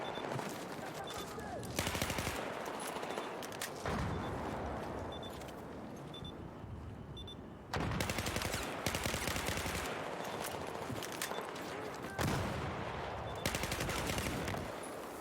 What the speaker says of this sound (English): Good headshot by Sack on Salt